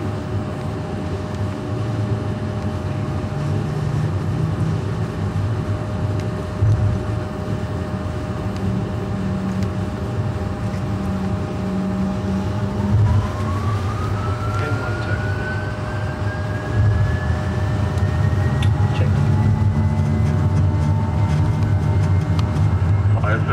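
Boeing 737-800 flight simulator takeoff roll: a steady, loud broadband engine roar with a rising whine building in pitch partway through, running continuously throughout.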